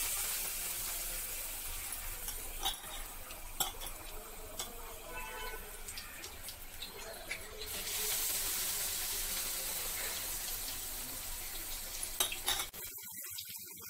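Bajji batter fritters fry in hot oil with a steady, broad hiss. Faint clinks of a utensil against the pan come through now and then, and the sound cuts off abruptly at the end.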